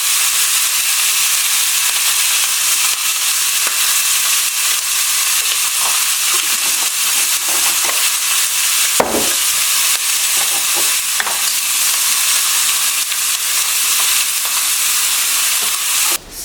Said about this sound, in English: So just want to let it sear for a couple of minutes.